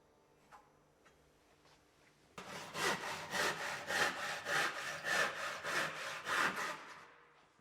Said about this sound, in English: waste material with a handsaw